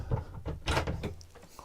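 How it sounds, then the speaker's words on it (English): A wardrobe door in a camper van swinging shut, a thud and rattling knock of the panel at close range among a few smaller handling bumps. "if I spin on round and close that door"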